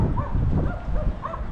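Somewhere beside an old downtown cemetery, a neighboring dog gives several brief, fairly distant barks and yips in uneven bursts over a constant low rumble of outdoor ambience.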